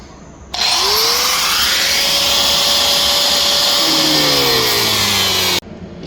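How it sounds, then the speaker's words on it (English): Power drill boring holes into a kayak deck, a loud steady high whine that starts abruptly, holds for about five seconds with slight pitch shifts as the bit bites, then cuts off. "so I drilled holes in the deck"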